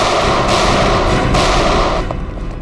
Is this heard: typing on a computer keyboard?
no